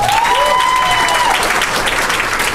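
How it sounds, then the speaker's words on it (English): A comedy club audience applauding loudly and continuously, dense clapping throughout, with a brief whistle near the start. "What a big round of applause for our host tonight, Mr. McCurdy."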